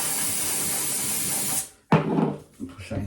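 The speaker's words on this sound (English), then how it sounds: "Bit of silicone spray." Silicone spray from an aerosol can, applied while fitting a wall-hung toilet, gives one long steady hiss up close, then cuts off before some clattering handling noise.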